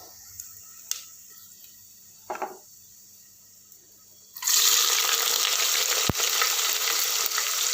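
Sliced onions drop into hot oil with whole spices for vegetable biryani, shifting from quiet pan handling and a few small taps to a sudden loud, sustained close sizzle that runs on steadily.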